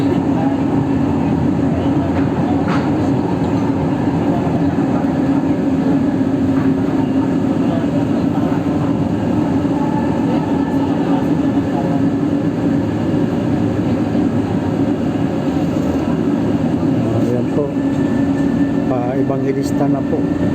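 Continuous low rumble and hum of an MRT metro train running in Quezon City toward Pasay, steady and close, with people talking over the mechanical drone throughout.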